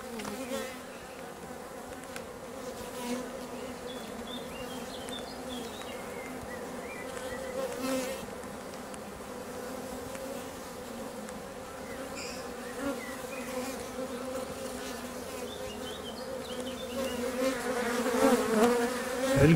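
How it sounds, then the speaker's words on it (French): Steady close insect buzzing, a continuous hum with a few brief louder flutters, growing slightly louder toward the end, as a honeybee emerges from its wax-capped cell on a fingertip. "Là, vous pouvez assister à la naissance d'une abeille au bout de mon doigt."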